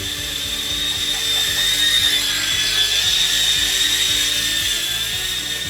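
A Lightrone all-in-one 5.8 GHz FPV mini whoop drone flies close by, its tiny propellers giving a steady, loud high-pitched whine that wavers slightly in pitch throughout, with no talking.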